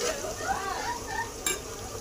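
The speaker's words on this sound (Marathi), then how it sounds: "इथं आपला कांदा चांगला भाजतोय" Onion frying in a pan for chicken pulao while being stirred, a steady close sizzle with scraping stirs and a brief sharp clatter near the end.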